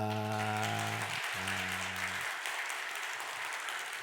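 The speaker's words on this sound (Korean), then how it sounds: "우리 환영의 박수 합니다" Steady applause from a church congregation during a Sunday service fills the whole stretch, with a low sustained musical tone underneath at the start that cuts out partway.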